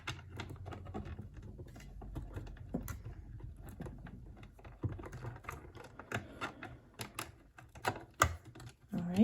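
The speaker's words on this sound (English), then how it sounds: "There's one screw. I'm going to take the other one off." A screw is removed from the needle plate of a sewing machine with small metallic clicks and taps. The scrapes are faint and irregular against a quiet background with a low hum.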